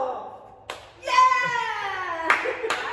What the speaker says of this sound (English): Why are you cheering?